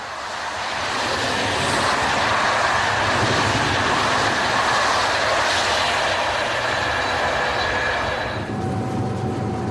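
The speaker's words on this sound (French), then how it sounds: "l'express roule déjà à 140 lorsqu'il traverse la gare de Villeneuve-Saint-Georges" An SNCF express train on the Paris–Dijon line runs at around 140 km/h past Villeneuve-Saint-Georges station, a loud, steady, continuous rushing roar that eases slightly near the end.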